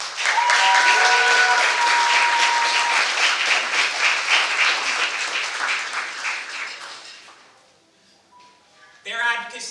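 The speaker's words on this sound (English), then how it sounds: "So give a round of applause for everyone in the USAID community who is here tonight" Loud, sustained applause from a crowd at an evening launch party fills most of the clip, then fades out before a voice starts speaking at the end.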